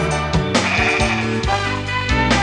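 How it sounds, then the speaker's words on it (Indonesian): A goat bleats loudly and close by in several wavering, quavering calls that follow one another over a steady background tone, with no talking. "ini binatang apa? Kambing."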